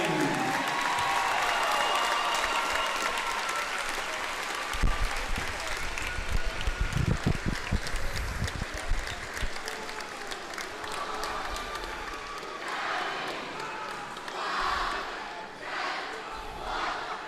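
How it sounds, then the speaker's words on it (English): Crowd applause honoring a 1998 state champion girls' basketball team at a basketball game, a sustained wash of clapping from a large indoor crowd with scattered shouts and cheers, gradually thinning toward the end. "Please give a round of applause for the 1998 state champions Lady Cat"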